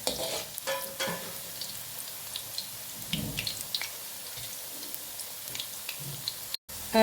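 French fries frying in hot oil, part-cooking for about three minutes, give a steady soft crackling sizzle with occasional stirring scrapes, close and fairly quiet, with no talking.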